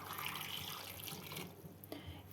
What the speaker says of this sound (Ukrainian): Ми їх заливаємо звичайною холодною водичкою